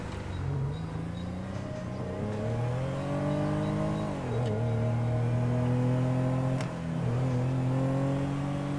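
A car engine in a roleplay video game drones and shifts pitch as the car accelerates, with steady revving and two dips where the gears change, loud and close, with no voices.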